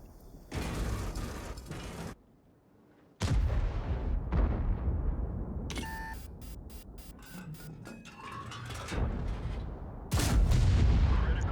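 Tank guns fire in World of Tanks, several loud booming shots with sudden onsets separated by mechanical clanks, creaks and reload ratchets, close and heavy with brief quiet gaps between blasts.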